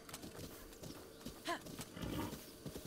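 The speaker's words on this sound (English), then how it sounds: "There's my horse." Horse hooves clip-clop in The Legend of Zelda: Breath of the Wild, a quiet uneven trot with a faint whinny-like call in the middle.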